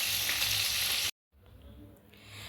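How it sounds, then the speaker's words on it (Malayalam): Chicken pieces fry in hot oil in a pan as part of a home-cooked Kerala-style chicken fry, giving a loud, dense sizzle that cuts off abruptly, then returns as a quieter hiss that builds again. "വറുത്ത് മാറ്റിക്കൊണ്ടിരിക്കുകയാണ്. ബാക്കി വറുക്കാൻ വേറെ ഇട്ടിട്ടുണ്ട്."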